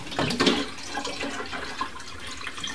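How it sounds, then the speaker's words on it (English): Filtered water pours into a plastic humidifier tank with a splashy, gurgling rush that is loudest at the start, then settles into a steady trickle. "And then you fill the tank up. And I'm using filtered water."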